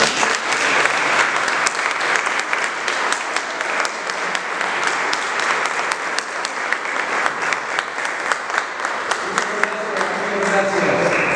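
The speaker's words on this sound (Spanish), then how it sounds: "Un aplauso para el Padre." Lecture audience at a Marian conference applauding a priest, sustained loud clapping from many people in a dense, crackling wash that carries on for over ten seconds, with a few voices emerging near the end.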